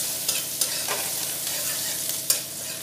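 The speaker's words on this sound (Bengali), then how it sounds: "দিয়ে পেঁয়াজটা একটু 1 মিনিট নেড়ে নেব।" Finely chopped onion frying in hot oil while being stirred in a pan for a Bengali fish-head curry: a constant bright sizzle broken by a few sharp scrapes and knocks of the spoon, close and clear.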